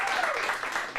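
An audience at a kids' acting class gives a short round of applause, a brief burst of dense clapping with voices mixed in.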